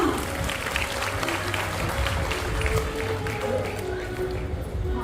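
Audience applause at a staged telling of Gautama Buddha's life, a steady, dense wash of clapping from a sizable crowd, loud and continuous for the whole stretch.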